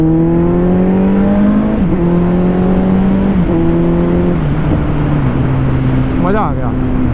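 Suzuki Hayabusa Gen-2 sport motorcycle engine droning steadily while riding, with its pitch stepping down and back up through several gear shifts, loud and continuous over wind noise.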